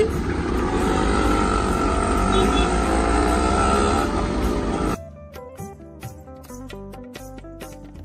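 An auto-rickshaw idles at a traffic signal in Ambarnath, its engine a steady, close, throbbing drone for about five seconds before it cuts abruptly to music.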